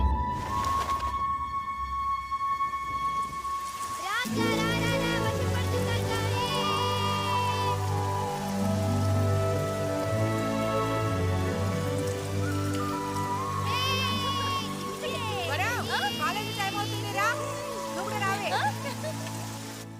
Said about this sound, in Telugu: వర్షం ఎక్కువ అవుతుంది తొందరగా రామ్మా